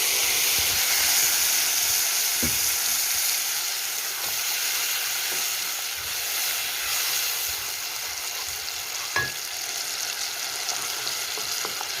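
Onion, garlic and tomato sauce fry in a pot with a constant soft hiss and sizzle, broken by a few faint utensil clinks.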